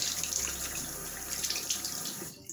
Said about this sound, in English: then you just like wash it up with water